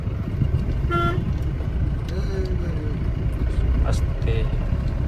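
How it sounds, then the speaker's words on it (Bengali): A car horn sounds briefly during a beginner driving lesson, a couple of short tonal honks over steady road and engine noise while an instructor's voice talks throughout. "হর্ন"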